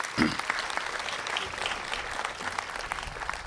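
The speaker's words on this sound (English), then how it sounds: "Please make sure you give them a round of applause." Audience applause at a home health care grand opening in Pennsauken, a steady patter of many hands clapping, moderately distant and soft, with faint voices murmuring underneath.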